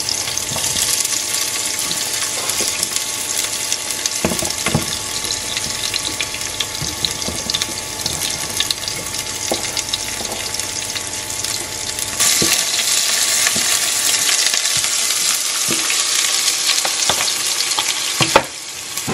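Garlic and onion fry in a pan as the base for tinola, a loud, continuous close sizzle lasting throughout, with occasional stirring knocks and a brief louder scrape near the end, no voices.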